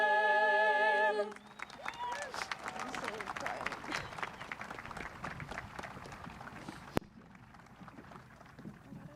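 Applause rises from a commencement audience right after the national anthem, a steady wash of many clapping hands that begins after a sustained musical chord and carries on under a faint voice before thinning near the end.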